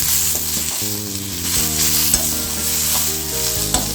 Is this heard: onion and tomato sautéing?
yes